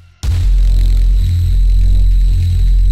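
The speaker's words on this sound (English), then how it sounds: "what I did here is adding a shimmer reverb." A synthesizer patch in Arturia Pigments 5 passes through a shimmer reverb: a loud, steady sustained tone with a deep pulsing low end and bright, shimmering upper overtones that holds for about three seconds after a sudden start.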